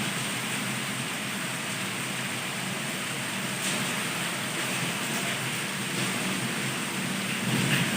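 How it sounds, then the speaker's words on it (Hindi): Heavy stormy rain in Hyderabad pours down as a steady, dense hiss, continuous and fairly loud throughout, with no voices. "हैदराबाद में बारिश बहुत ही ज़्यादा तेज़ हो रही है, तूफ़ानी बारिश हो रही है"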